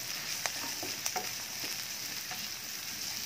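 Garlic sautéing in a pan alongside onion, giving a soft continuous sizzle with a few light utensil taps and scrapes, quiet and close, no talking.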